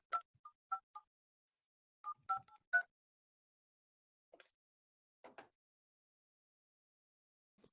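Touch-tone keypad beeps on a cloud phone system as a number is dialed, short clipped tones in quick clusters separated by brief pauses, clear and close in a quiet room.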